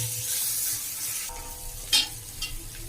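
Crushed ginger, green chili and garlic sizzle and fry in a pan for a biryani base, with a steady hiss and a couple of sharp scraping stirs near the end.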